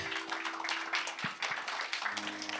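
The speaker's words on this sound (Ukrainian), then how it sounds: "Будь ласка, оплесками підтримайте." Faint audience applause at a youth conference as speakers are called onto the stage, a dense wash of clapping that runs throughout.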